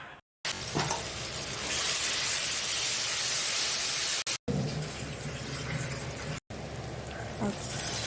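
Spice paste with salt and turmeric frying in a pan, hissing in a loud, steady sizzle as a little water is poured in, with two brief breaks.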